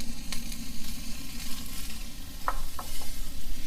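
Celery, carrots and cabbage stir-frying for Filipino pancit, a soft continuous sizzle with a few brief utensil clicks against the pan, close and fairly quiet.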